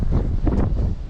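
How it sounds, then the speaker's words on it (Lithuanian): Strong wind blows while out fishing, a brief rough rumble of gusts buffeting the microphone with low, continuous roaring and no voices. "bet vėjas didelis"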